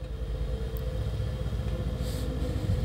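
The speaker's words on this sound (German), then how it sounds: "V8. Brabbeln im Leerlauf." A Mercedes-AMG C 63 S V8 burbles steadily at idle, a low, even rumble held close and constant with no voices.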